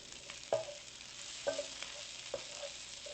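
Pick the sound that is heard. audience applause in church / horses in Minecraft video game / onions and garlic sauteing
onions and garlic sauteing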